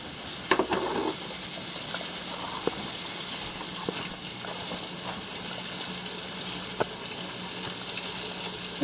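Onions, habaneros and jalapenos frying in a pan, a soft, steady sizzle with a few light clicks and knocks from utensils, fairly quiet and without talk.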